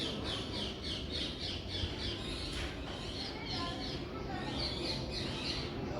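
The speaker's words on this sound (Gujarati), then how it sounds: "એ ચકલી ઉડી ગઈ." A sparrow chirps and squawks in rapid repeated bursts near a rope where a squirrel climbs, outdoors, steady and moderately loud, with faint voices in the background.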